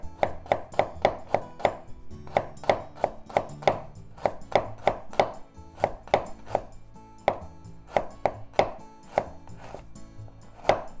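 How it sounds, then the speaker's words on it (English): A knife slices octopus into thin slices on a cutting board, with rapid, evenly spaced crisp chops in quick bursts, close and fairly loud, with brief pauses between runs. "I want to make it into thin strips, so let's make thin slices first."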